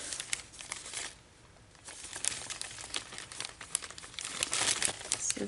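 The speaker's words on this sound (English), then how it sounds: "This is my bag of foam pieces and parts." A hand rummaging through a plastic bag of foam pieces, with close, busy crinkling and rustling in irregular bursts and a brief quieter pause.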